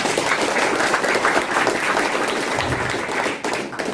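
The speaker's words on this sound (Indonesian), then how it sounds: "Aplaus untuk kita semua." Audience applause at a business motivational seminar, a dense, loud, sustained clapping from a large crowd that holds steady for the whole stretch.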